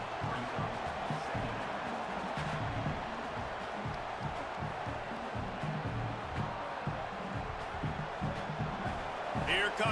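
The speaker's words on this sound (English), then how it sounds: "this crowd is turning it up a notch" Dense, roaring stadium crowd noise fills a college football video game, CFB 27 on PS5, from Ohio State against Michigan, a constant wash of cheering with a commentator talking over it.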